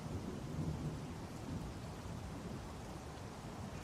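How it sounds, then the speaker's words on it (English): Thunderstorm in the space video game Star Citizen, a steady rush of heavy rain with a low rumbling undertone, quiet and continuous with no talk over it. "We're going into the storm"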